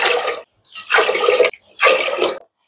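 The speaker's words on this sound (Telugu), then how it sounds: "ఈ సగానికి మనం 2 గ్లాసులు వాటర్ తీసుకుందాం." Water from a glass goes into a pressure cooker holding moong dal, three separate close, loud pours with short silent gaps between them, no speech.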